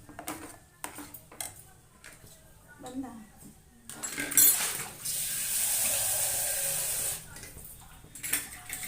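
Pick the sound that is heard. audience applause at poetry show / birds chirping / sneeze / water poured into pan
water poured into pan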